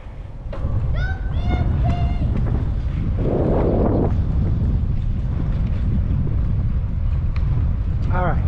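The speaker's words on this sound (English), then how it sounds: "it sounds very windy, so I'm curious to see if this gets all picked up." Steady wind buffeting the microphone, a constant low rumble throughout, with a few faint whistle-like chirps and a brief hissing patch partway through.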